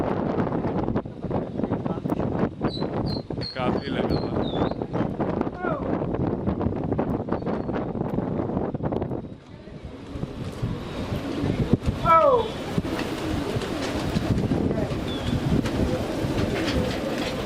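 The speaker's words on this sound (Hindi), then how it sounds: "हवा बहुत तेज चल रही है।" Strong wind buffets the microphone in a steady, rumbling roar during a rooftop pigeon flight, with a few bird chirps and cooing nearby and someone talking over it.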